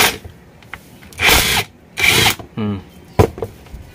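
A cordless impact driver whirs in two loud, roughly half-second bursts to spin off a drill chuck, followed by a short rattling buzz and a sharp click, with quiet gaps between.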